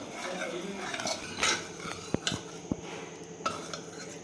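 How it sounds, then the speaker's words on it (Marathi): A spoon scrapes and presses against the bottom of a pot, mashing cooked lentils, with a few sharp metallic knocks at a fairly quiet level. "चमच्यानेच थोडीशी हटून घ्यायची"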